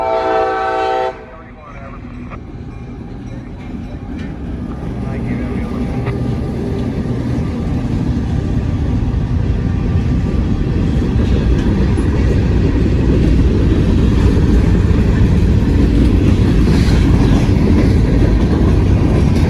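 A short train rumbling steadily across a high trestle over a city, a loud rolling rail roar that builds and holds close for the whole stretch, with a brief horn-like tone at the very start.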